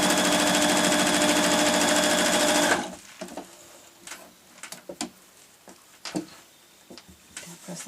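A sewing machine stitches a line of patchwork for a cosmetic bag, running loud and steady for nearly three seconds, then stopping, after which soft handling clicks and rustles follow.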